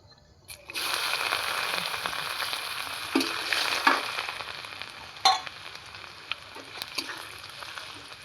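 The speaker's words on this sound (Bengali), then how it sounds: "এবার আমি একই তেলের মধ্যে আমি আর একটু তেল দেবো ওখানে। আমি এখানে রসুন কুচি নিয়েছি" Chopped garlic frying in oil left over from frying snakehead fish, a close, continuous hiss and crackle with occasional sharper spatters and stirring knocks, no voices.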